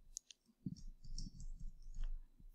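Computer mouse clicks while working in 3D software, a few faint, sharp clicks scattered over a couple of seconds against quiet room tone.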